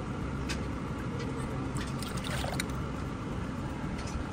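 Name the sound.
pouring milk into a mixing bowl for muffins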